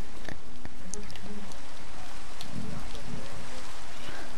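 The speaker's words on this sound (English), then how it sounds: "Like when it's raining and then you touch lava." In Minecraft, rain falls onto lava with a steady, even hiss and patter, and faint crackles and small pops are scattered through it.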